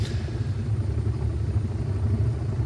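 Bo-105 helicopter in the flight simulator MSFS 2024, spooled up on one engine, producing a deep, steady rumbling rotor knock with a continuous throbbing pulse and no talking.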